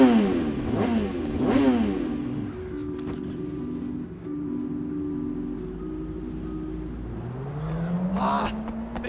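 Car engine revving and driving in the video game Sleeping Dogs, a steady harmonic drone with rising and falling revs, loud and close, with a sharper rev burst near the end.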